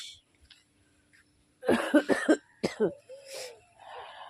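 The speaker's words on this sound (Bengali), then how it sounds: "কাশি হচ্ছে কাশি" Several coughs from one person outdoors in a home garden on a cold morning with a scratchy throat, a loud cluster of three or four close bursts followed by a couple more and a throat-clearing sound, with no talk.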